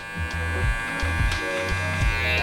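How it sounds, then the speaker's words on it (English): An electric beard trimmer buzzes steadily and close up while cleaning a man's neckline, with short dips and shifts in pitch as it moves across the skin. "So I try to get it as clean as possible with the trimmer."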